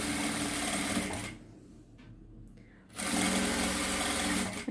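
Close by, a sewing machine stitches thread piping in two steady runs, separated by a brief quiet pause of over a second before the motor whirs back up.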